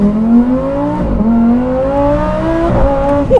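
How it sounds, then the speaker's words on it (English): A supercharged Lamborghini Huracan STO V10 accelerates hard in Trofeo mode, its loud, rising engine note climbing steadily through the revs with brief dips at gear changes, close and continuous. "That V10, especially coupled with the supercharger, sounds mind-bogglingly good"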